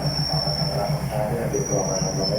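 A train pulls into Bang Khi Nak railway station, a steady rumbling roll with a sustained high metallic whine from the wheels running close and loud throughout.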